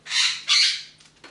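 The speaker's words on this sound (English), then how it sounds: "I do have a parrot, and she's being very vocal right now." A pet parrot squawks loudly in a home kitchen while focaccia dough is being made: two harsh, close squawks in quick succession, then a few fainter, shorter calls.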